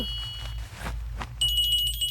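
A telephone rings with a repeating electronic trill that starts partway through, loud and close over a steady low background hum, with no talking.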